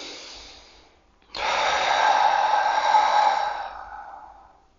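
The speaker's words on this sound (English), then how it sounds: "Maybe take a few deep breaths." A single deep breath is drawn and let out slowly during a seated meditation, close and breathy, a short inhale followed by a long, smooth exhale that fades away.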